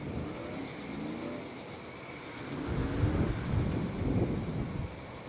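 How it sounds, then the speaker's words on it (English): A tractor or similar heavy vehicle passes at a distance, its low engine rumble swelling midway and then fading under steady wind noise. "Sounds like a tractor or something going by."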